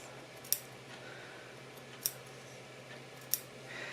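Scissors snip through fabric along a McCall's 2004 dress pattern, three crisp, quiet cuts spaced about a second or more apart over a low steady room hum, with no talking.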